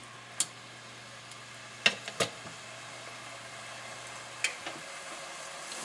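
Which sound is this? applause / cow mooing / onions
onions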